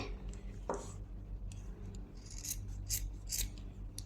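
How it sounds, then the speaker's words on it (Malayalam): Scissors snipping away excess fabric while stitching a frock, a few quiet, crisp cutting strokes and rustles spaced irregularly over a soft background hum, close and faint. "ഇനി ഈ ആവശ്യമില്ലാത്ത ഭാഗം നമുക്ക് ജസ്റ്റ് ഒന്ന് കട്ട് ചെയ്ത് കളയാം"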